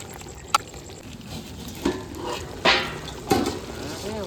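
Oil sizzles in a pan of cooking chicken curry while a spoon stirs. A steady frying hiss is broken by several scraping knocks against the pan.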